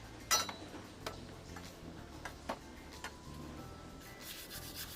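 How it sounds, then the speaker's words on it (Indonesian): Sandpaper rubbing a rusty, sticking mountain bike suspension fork, a quiet series of scraping strokes and light ticks at close range, uneven in rhythm, with no talk. "Jadi ini kan akan kita haluskan lagi menggunakan amplas"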